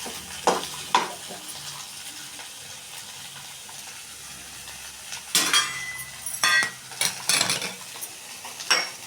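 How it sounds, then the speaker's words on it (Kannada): Tomatoes sizzle in two spoons of hot oil for a green tomato chutney, a steady frying hiss under sharp clinks and scrapes of a spoon stirring against the pan in bursts, especially near the end. "ಎಣ್ಣೆ ಕಾದ್ಮೇಲೆ ಟೊಮೆಟೊನ ಇದರೊಳಗಡೆ ಹಾಕಿ ಚೆನ್ನಾಗಿ ಹುರ್ಕೊಳ್ಳೋಣ"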